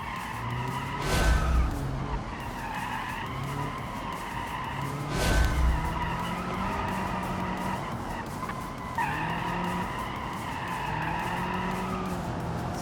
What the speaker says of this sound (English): See that understeer really occurring hard there when I get under the throttle.